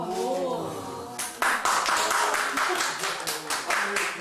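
A church congregation breaks into clapping, with a short spoken lead-in giving way to a burst of sharp, uneven hand claps from a small group in a room.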